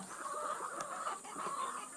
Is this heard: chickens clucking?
yes